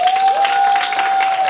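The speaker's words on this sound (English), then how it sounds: "a round of applause" Brief burst of audience applause at a town meeting, a dense patter of clapping throughout with a steady tone running underneath.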